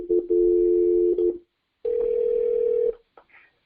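A telephone rings on an outgoing call during a radio talk show: two steady electronic ring tones, the first about a second and a half long, then a pause, then a shorter second tone, fairly close and clear.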